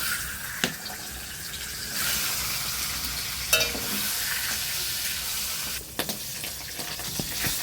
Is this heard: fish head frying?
yes